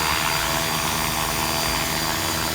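A radio-controlled UH-1 army helicopter descends to land, its rotor and motor making a steady, loud, continuous whir with no break throughout.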